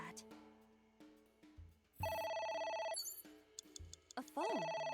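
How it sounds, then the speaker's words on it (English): A phone rings in the video game AI: The Somnium Files, electronic bursts that start and stop in short repeating bars over game music and sound effects, loud and close. "A phone. Should I pick it up?"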